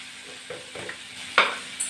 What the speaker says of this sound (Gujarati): સરસ હલાવી લઈએ